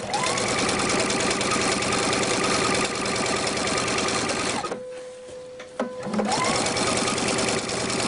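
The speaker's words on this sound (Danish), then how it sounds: "Og nu syr vi så den øverste stikning hen over kraven." A sewing machine topstitching across a shirt collar runs with a fast, steady mechanical whir, briefly stops for about a second and a half with a few soft clicks, then resumes stitching at the same pace.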